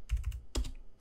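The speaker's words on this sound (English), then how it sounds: "So I'm going to type out npm install" Computer keyboard typing an npm install command, a few quick close keystrokes in a short uneven cluster, alone without talk.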